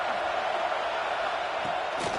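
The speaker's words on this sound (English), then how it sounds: "listen to this crowd coming through" A packed stadium crowd in the College Football 26 video game, Oregon versus Indiana, roars in a sustained, loud, even swell throughout, with a faint voice buried underneath.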